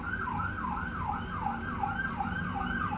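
Emergency vehicle siren passing outside, a wailing tone sweeping up and down in a repeating rhythm over low traffic rumble, heard somewhat distant with no voices.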